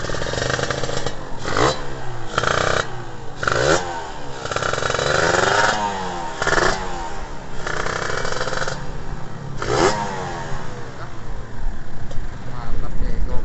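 A Kawasaki Ninja RR two-stroke motorcycle with a special aftermarket exhaust, revved up close in repeated sharp bursts that rise and fall over a rough, crackling idle, with people talking in between.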